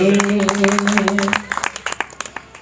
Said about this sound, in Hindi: तालियां हो जाए, बहुत बढ़िया तालियां